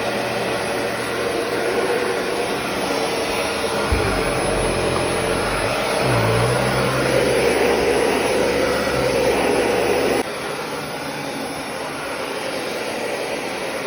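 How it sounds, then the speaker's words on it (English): A household vacuum cleaner runs steadily and loud and close, with a steady whine and motor drone that shifts pitch partway through, then drops in level near the end as if switched or moved. "Done vacuuming."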